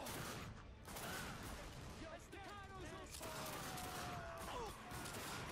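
Dense video-game gunfire from The Darkness 2 in a restaurant area, with loud, continuous overlapping shots and bursts filling the whole stretch, plus brief whistling and mechanical sounds mixed in.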